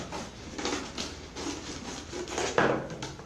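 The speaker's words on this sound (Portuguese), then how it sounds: "nós vamos cortar mais ou menos ela pela metade" A plastic PET bottle being cut in half, giving a close, steady scraping and rasping rhythm of repeated strokes, with a sharper crunch near the end and no talking.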